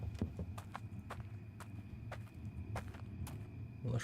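Horse hooves clip-clop in the horror video game Blood West, a steady run of distinct, sharp hoof strikes over a constant low background hum, fairly faint and with no talk.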